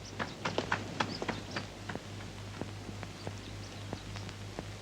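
Horse hooves of a horse-drawn carriage clip-clop in a loose, uneven rhythm, moderately close, over a steady low hum with no talk.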